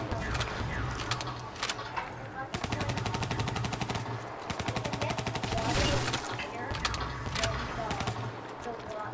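Rapid automatic gunfire from a Call of Duty Shadows of Evil zombies match, bursts of shots running almost continuously at close range, with voices talking over the shooting.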